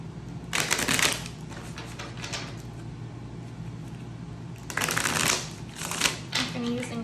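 Tarot advice cards are shuffled in two crisp riffling bursts, close by, with a low steady background hum between them.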